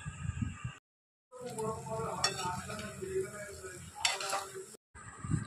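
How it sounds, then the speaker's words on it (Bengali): Shrimp frying in a pan on a home stove: a steady sizzle with utensil scrapes and clinks against the pan, broken by two short stretches of silence. "আর এখানে চিংড়ি মাছ ভাজা বসিয়ে দিয়েছি, আর চিংড়ি মাছটা ভাজা হচ্ছে।"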